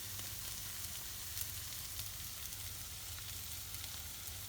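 Cuttlefish ink and chopped sepia sizzling in a hot pan for Catalan black rice, a steady close crackle and hiss with faint stirring.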